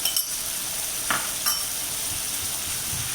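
A spoon stirs shahi paneer masala into sizzling gravy in a pan, giving a steady low frying hiss with a few soft scraping strokes near the start, close and moderately loud, with no talk.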